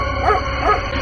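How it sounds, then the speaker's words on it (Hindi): A cartoon dog in a 3D horror story barks harshly outside a room, two quick close barks about half a second apart over a low background hum. "उसका डॉग एक रूम के बाहर खड़ा होकर बहुत बुरी तरह से भौंक रहा होता है"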